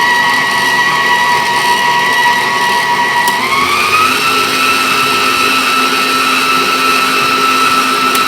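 An electric mixer whirs loudly and steadily, stirring flour-coated mini chocolate chips into a chocolate pound cake batter, its motor pitch shifting partway through.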